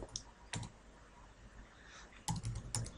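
Keys clicking on a computer keyboard while an SQL SELECT query is typed, a few quick bursts of clattering keystrokes separated by quieter pauses, close and clear.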